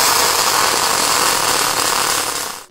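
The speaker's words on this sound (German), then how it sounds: "Dann probier jetzt nochmal drei Nähte parallel untereinander zu schweißen." Welding of three parallel seams, a steady loud broadband hiss and crackle held close for over two seconds before it cuts off, no voices.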